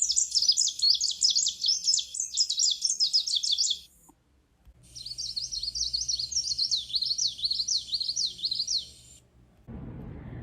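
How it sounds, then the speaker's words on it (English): A male greenish warbler sings two long bursts of rapid, high, jumbled song phrases, a short pause between them, close and clear over faint low background noise, with a brief different sound at the very end. "male greenish warblers are very active singers, using song both to attract females and to defend their territories"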